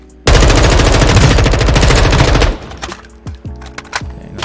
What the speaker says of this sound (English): So this is me shooting the target standing up,